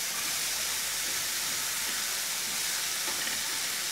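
Sliced red onion dropped into a hot pan of mushrooms, giving a loud, steady, close sizzle with constant hissing that never lets up.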